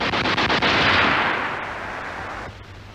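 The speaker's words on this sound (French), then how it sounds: "Visez et laissez partir la rafale, 3 à 6 coups." Wehrmacht submachine gun fired in a single sustained burst of rapid shots, loud and close, the rattle trailing off into a long fading echo with no talk.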